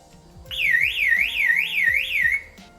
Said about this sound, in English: this button, the one I pressed while these were in my pocket, is a panic alarm